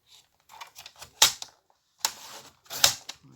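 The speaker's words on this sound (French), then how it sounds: "on va couper la pochette" A paper pouch for a journal page is cut with a few crisp, sharp snips separated by quiet gaps, close and clear with no talking.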